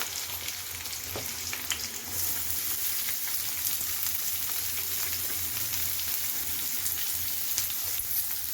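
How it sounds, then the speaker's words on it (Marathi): Onion frying in oil with curry leaves and green chili gives a steady crackling sizzle that grows louder after a fresh addition, with occasional spatters and spoon taps, close and without voices. "हिरवी मिरची छान अशी भाजली की त्याच्यामध्ये टाकले कढीपत्ता आणि नंतर टाकायचे कांदा"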